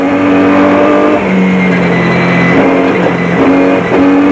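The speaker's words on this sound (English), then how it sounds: "On board with race leaders Hanil de Villiers and Francois Jordan in the Nissan Hardbody Super Truck." Onboard engine roar of a Nissan Hardbody Super Truck racing in the 2001 Mmabatho 500, loud and sustained with steady droning tones and slight pitch shifts as it holds speed, no voices.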